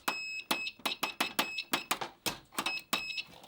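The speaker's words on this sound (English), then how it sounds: "I use this mostly for a continuity tester that's nice and loud." A loud handheld continuity tester from a workshop toolbox beeps repeatedly in a fast, slightly uneven series of about ten shrill tones, close and clear with nothing else heard.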